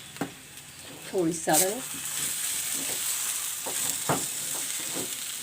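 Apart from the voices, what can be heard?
potatoes with green chillies and turmeric frying and being stirred in a pan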